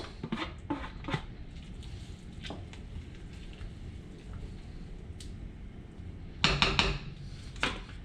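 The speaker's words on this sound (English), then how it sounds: "I'm gonna go ahead and stir in my green onions." Green onions are stirred into fish head soup kept at a light simmer, with soft utensil clinks and scrapes against the pot in scattered bursts over a quiet bubbling background, a louder cluster of clatter near the end.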